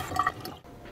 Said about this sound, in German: fülle den Behälter möglichst randvoll mit stillem Wasser